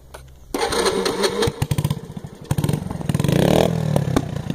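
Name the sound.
Shineray motorcycle engine being switched on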